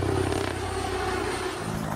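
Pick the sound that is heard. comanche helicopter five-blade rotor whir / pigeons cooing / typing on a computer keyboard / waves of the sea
comanche helicopter five-blade rotor whir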